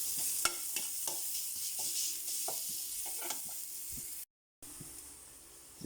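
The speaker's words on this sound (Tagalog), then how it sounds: "Magigisa na po tayo para sa ating ginataang tilapia" Garlic and ginger sautéing in hot oil for coconut-milk tilapia, a steady close sizzle and hiss with repeated scraping and stirring clicks from a utensil against the pan, briefly cut out near the end.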